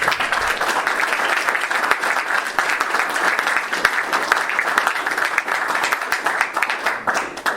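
An indoor audience claps after an evening talk on First World War army chaplains, giving steady, dense applause that stays loud and even throughout with no pauses.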